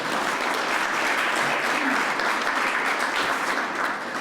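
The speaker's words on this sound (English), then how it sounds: "Give our panel a round of applause." Steady, dense applause from a crowd at an arts awards ceremony, clapping continuously at an even level throughout with no pauses.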